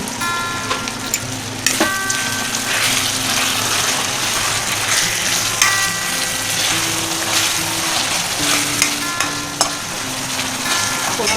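Chicken curry with capsicum bubbling and sizzling steadily in a pan, with occasional scrapes and clinks of a spoon stirring, close up and without talk.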